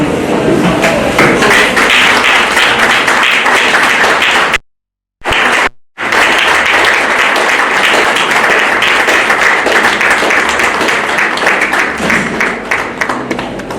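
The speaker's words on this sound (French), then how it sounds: "j'aimerais demander à toute l'Assemblée ici présente de bien vouloir se lever et d'applaudir ce grand homme de notre Zomboama" Mourners at a funeral stand and applaud a late professor, sustained dense clapping from a large assembly, broken by two brief silent gaps before carrying on steadily.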